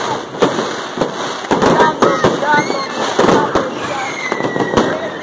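New Year fireworks and firecrackers bursting in loud, irregular pops and bangs, some close and sharp, some farther off, with voices talking and shouting over them.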